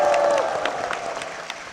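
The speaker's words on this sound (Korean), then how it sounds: "담임 목사님과 교회를 위해서 힘찬 박수 부탁드리겠습니다." A church congregation claps briefly for the senior pastor and the church. The clapping is fairly close, fades quickly, and ends with a few scattered claps, while a sustained tone trails off at the start.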